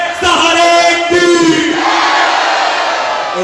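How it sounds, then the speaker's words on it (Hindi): A crowd at a Khatu Shyam devotional jagran in a grain market roars a jaikara chant together, loud and sustained, with voices rising in a massed shout that holds steady throughout. "अब जयकारा लगे, बलहारे के सहारे की।"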